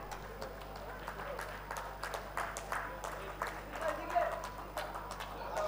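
An audience claps at a book launch for eleven new titles from Aajkaal Publishers, a scattered patter of applause in a large hall with voices murmuring underneath.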